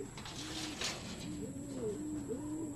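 Homing pigeons cooing repeatedly at close range as they arrive during pigeon race road training, the soft rising-falling calls overlapping over steady background noise.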